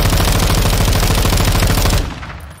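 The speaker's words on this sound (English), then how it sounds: "Maybe we can just shoot it here real quick." Sustained rapid machine-gun fire, loud and close, pours out continuously to shoot down a killstreak in Modern Warfare 2, then stops abruptly, leaving a short fading tail.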